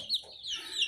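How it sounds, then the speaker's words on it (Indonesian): Young free-range village chicks let out to roam, a couple of quick, close, high-pitched cheeps and clucks. "ini ayam kecil-kecilku mulai diumbar"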